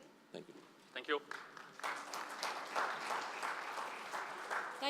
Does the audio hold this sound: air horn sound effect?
no